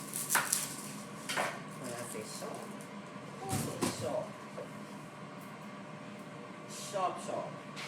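A knife chops an onion on a kitchen board, a few scattered knocks and clatters at close range amid general kitchen noise.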